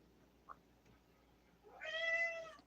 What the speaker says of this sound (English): My little kitty is going meow meow.